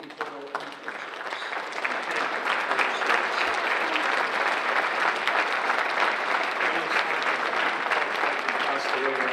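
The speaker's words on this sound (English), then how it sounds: "Please give a round of applause if you know the people in the pictures." An audience at a Veterans Day program claps in a sustained, dense round of applause that holds steady and fairly loud from start to finish.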